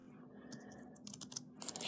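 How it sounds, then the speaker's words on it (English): Keyboard connected to an Android device being typed on, soft scattered key clicks that grow quicker and denser toward the end, close and quiet with no talking. "just basically start typing anywhere"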